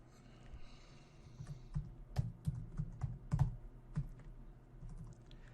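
Computer keyboard keys clicked in a quick, uneven burst while a password is typed, close and fairly quiet, with no one speaking.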